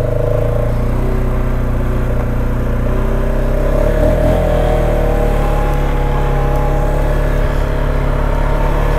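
Engine of a 2019 Polaris Sportsman 570 X2 EPS ATV on a test drive, a loud steady mid-pitched drone that rises and falls slightly in pitch as it gets under way, close and continuous with no talking.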